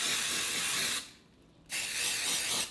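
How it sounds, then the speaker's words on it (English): Two close, steady hissing bursts from an aerosol hair product sprayed onto hair ends, about a second each, separated by a short pause. "So I'm just gonna spray it onto the ends just like this."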